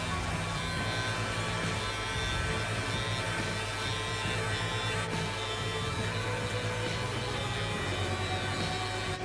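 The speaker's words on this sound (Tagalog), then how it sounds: "gamit tayo ng Brown Series 3 shaver para linisin natin ito" A Braun Series 3 electric shaver runs in a continuous close buzzing hum, steady and unbroken, used to clean up after a bald taper fade haircut.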